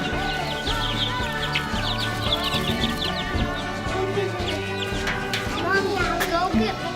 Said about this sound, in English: we're gonna go check on our chicks and see how big they are